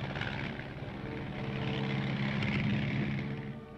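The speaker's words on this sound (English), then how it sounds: "Among the aircraft used are the L-19," An L-19 observation plane, a propeller aircraft, drones steadily throughout with a constant engine hum and harmonic buzz at moderate distance, no talk.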